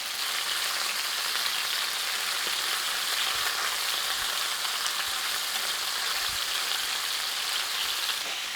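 Chicken pieces searing in oil in a pan for a cream stew, giving a steady, even hiss of frying that holds at constant level throughout, with a few soft bumps underneath and no talking.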